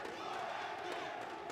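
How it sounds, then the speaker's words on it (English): A large crowd at an esports watch party chanting and roaring together, a steady dense wall of voices with no pauses, heard from within the audience. "The crowd is chanting for MV."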